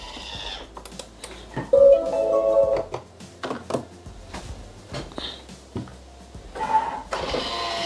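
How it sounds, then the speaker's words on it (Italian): A Thermomix (Bimby) TM-series food processor runs at speed 4, set to 37 degrees with the basket in place of the measuring cup, mixing cake batter with a steady motor whir, scattered clicks and knocks, and a brief tone. "azionare il bimby con il cestello al posto del misurino per 6 minuti, 37 gradi, velocità 4"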